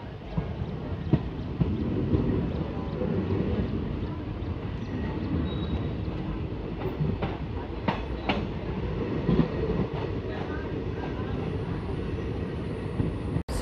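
A passenger train runs on rails between Puranpur and Mailani Junction, heard as a loud, continuous rumble with repeated clickety-clack wheel beats throughout.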